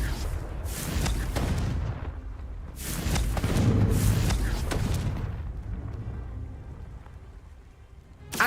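A Confringo fire spell bursting in Hogwarts Legacy, several deep booming blasts with crackling rumble that swells and slowly rolls away, loud and close with no voices.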